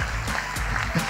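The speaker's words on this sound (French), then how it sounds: "Un applaudissement pour les jurys" Audience applause for the jury at an art competition event, a burst of clapping with some crowd noise, fairly steady across the short moment.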